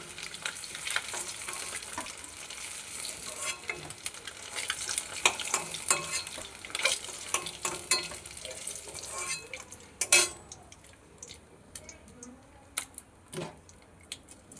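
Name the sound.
eggs frying in a pan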